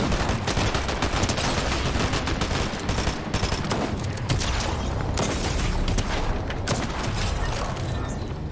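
Heavy combat shotgun fire in Fortnite, dense and loud, with repeated sharp blasts and booming game combat noise packed continuously across the stretch.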